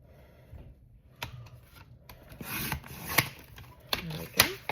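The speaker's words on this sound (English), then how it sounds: "And then I take my cutter and cut it down to size." A cutter slicing material down to size: quiet scraping strokes and sharp clicks that get louder and more frequent toward the end, close up with no talk.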